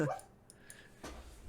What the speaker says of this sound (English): My dog's having nightmares over there.